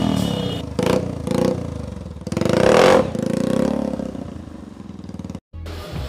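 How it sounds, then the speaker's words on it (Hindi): A Bajaj Pulsar motorcycle custom-modified into a Harley-style bobber, its loud exhaust revved repeatedly up close, rising and falling bursts with a brief cutoff near the end, no speech. "आप लोग पहले इसका एग्जॉस्ट साउंड का वीडियो एंजॉय करिए, क्योंकि इसका एग्जॉस्ट भी काफ़ी ज़्यादा मस्त है"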